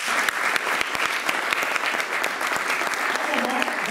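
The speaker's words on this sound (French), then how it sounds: "on acclame le Seigneur" A church congregation breaks into loud, sustained applause, dense rapid clapping from a crowd that fills the space evenly, with voices mixed in beneath the clapping.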